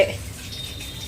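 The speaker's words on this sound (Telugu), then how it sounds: "నిండిపోయింది ట్యాంక్ నిండిపోయింది ఆ వాటర్ అన్నీ సందులోకి వస్తున్నాయి" Overflow from a full water tank running down into a narrow residential lane, a steady, faint wash of flowing water with no voices.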